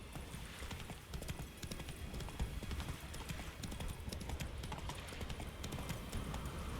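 Roach the horse gallops in The Witcher 3, hooves clip-clopping in a fast, steady rhythm close by, with a brief whinny amid the continuous hoofbeats.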